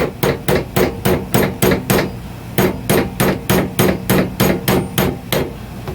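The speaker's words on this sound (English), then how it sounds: "Knock your roll pin back in." A hammer strikes steadily, about fourteen sharp metallic blows in an even rhythm, driving a roll pin into a hydraulic bead breaker, loud and close with no talking.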